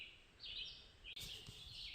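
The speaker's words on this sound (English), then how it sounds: "birds are busy. Sounds wonderful." Songbirds call at dawn in a campsite along the Appalachian Trail, a couple of high warbling phrases rising and falling close by over quiet morning air, with a soft rustle partway through.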